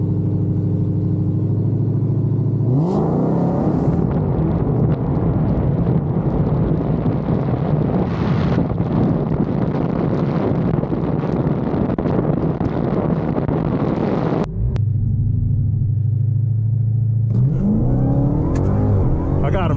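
A stock Dodge Hellcat Redeye at a big street drag racing event in the South roars loudly through a long, full-throttle pull, with a deep idling rumble before and after and voices faintly around it.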